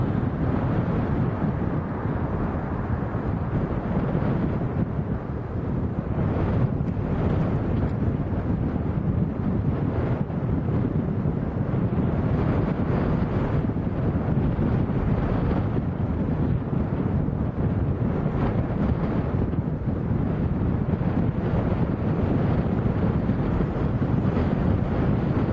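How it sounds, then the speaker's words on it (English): Strong, gusty crosswind at Lanzarote airport, a constant heavy roar of wind buffeting the microphone that swells in rough surges and never lets up, with no voices. "Wind's getting up again. Does seem to come in spells of real big gusts"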